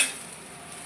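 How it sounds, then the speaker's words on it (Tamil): Spinach (palak keerai) sautéing in a pan without added water gives a soft, steady sizzle with faint stirring scrapes, fairly quiet and continuous, with no voices. "அப்படியே கீரை அப்படியே வதக்க ஆரம்பிக்கும்."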